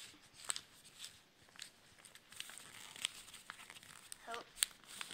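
A sheet of paper being folded into a paper airplane gives soft, faint crinkles and creases, with a few sharper snaps scattered through.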